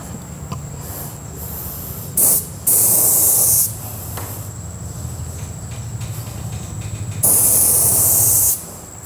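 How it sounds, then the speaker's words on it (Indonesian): Spray gun hissing in two sustained bursts while paint goes onto a fiberglass bending archery bow, with steady background hum and chirping between the bursts. "Sekarang kita cek bagian-bagian yang masih kurang tebal. Di situ kita semprotkan ya."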